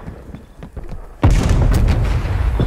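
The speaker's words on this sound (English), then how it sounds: "Semtex grenade." A Semtex grenade detonates in Call of Duty: Black Ops Cold War, a sudden loud booming blast that cuts in after quieter game ambience and rolls on as a heavy rumbling tail.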